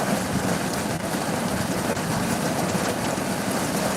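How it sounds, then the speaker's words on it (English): Heavy rain pouring down hard, a dense, continuous roar with a low rumble that stays loud and even throughout, with no voices. "it's pouring down raining"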